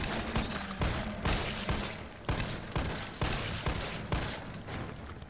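Rapid gunfire from the video game Resident Evil 3 Remake, a steady run of loud, evenly spaced shots across the whole stretch with no talking.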